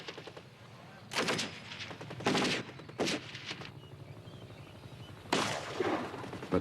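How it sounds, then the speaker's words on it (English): Soldiers firing real bullets in live gunfire: four separate loud bursts of shots, each lasting about half a second to a second, spaced irregularly over a steady outdoor background. "They are firing real bullets at imaginary enemies from outside Israel."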